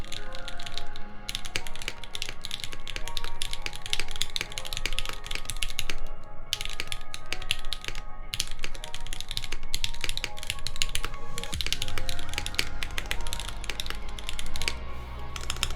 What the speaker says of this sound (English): I do have like a typing sound video of this.